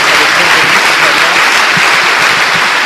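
A church congregation at a Portuguese-language service breaks into loud, dense applause that holds steady and continuous throughout, a close wash of many hands clapping.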